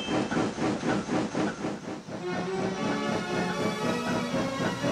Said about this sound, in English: all four engines whistled and set off